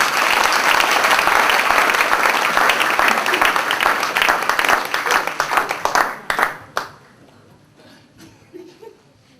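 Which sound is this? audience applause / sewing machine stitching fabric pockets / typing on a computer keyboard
audience applause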